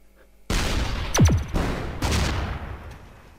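Explosive shots in the artillery video game ShellShock Live: a sudden loud blast with a falling whistle, followed by a second burst about a second and a half later, each trailing into a rumbling decay.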